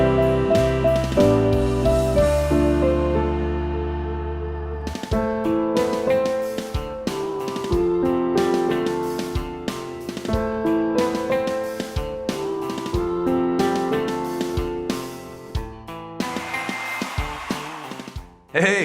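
Piano playing the chorus of a song in an intermediate arrangement, steady chords and melody notes ringing out clearly and alone for the whole stretch.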